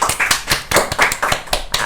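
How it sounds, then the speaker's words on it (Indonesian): A small studio group claps hands for an arriving guest at a pantomime-troupe podcast, a quick, uneven burst of sharp close claps repeating through the moment with no talk over it. "Tepuk tangan dulu buat tamu undangan kita guys."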